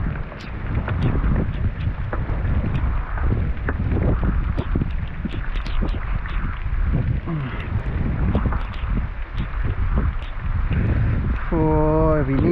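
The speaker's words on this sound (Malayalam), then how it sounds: "ഇനിയിപ്പോൾ കാറ്റത്ത് ഇതാ മഴ കൂടി" Strong wind and rain batter a small fishing boat out at sea. There is a steady, loud, rushing roar throughout with gusty buffeting on the microphone and faint creaks.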